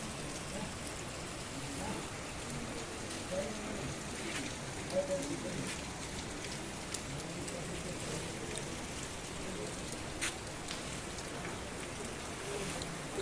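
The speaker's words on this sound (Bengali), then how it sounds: "এখনও কিন্তু বৃষ্টি পড়ছে।" Steady rain falls at a hillside homestay in Sittong, a constant even patter with occasional louder drips and no voices over it.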